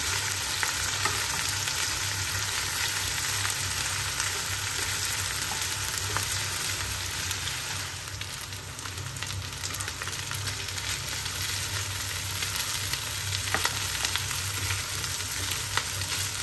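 Yakisoba noodles stir-fried and tossed in a hot pan, a steady dense sizzle with faint scraping of stirring throughout, close and continuous with no talking.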